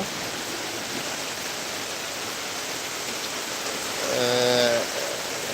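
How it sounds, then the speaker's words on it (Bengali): Rain falls steadily at Bhangura market in Pabna, a dense, even hiss throughout, with a short burst of a voice or horn-like tone rising briefly near the end. "আল্লাহ তালা মনে হয় একটু বৃষ্টি কমায় দিচ্ছে"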